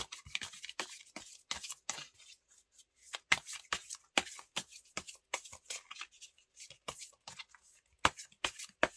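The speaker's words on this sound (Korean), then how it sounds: "잘하고 계신 분들 한번 카드 뽑아 볼까요?" Tarot cards shuffled and drawn by hand, a quiet series of sharp, crisp riffles and flicks in uneven bursts, with no voice over them.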